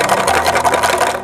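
A plastic bottle holding colourful stones, its lid closed tight, is shaken as a homemade rattle toy, giving a fast, even, continuous rattle up close.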